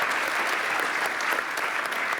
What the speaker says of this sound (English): Big applause maybe for that.